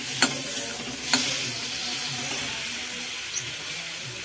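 Spice paste with salt and turmeric for katla fish curry fries in a pan, a steady close sizzle and hiss broken by two sharp crackling spits early on, with no talk over it.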